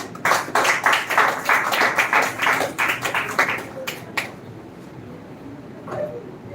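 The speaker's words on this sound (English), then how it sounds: "So now it's time to call the next speaker of the day. So clap for Khushi." A group claps in a brisk, rhythmic burst for about four seconds at a school speech contest, then the clapping trails off into quiet room noise.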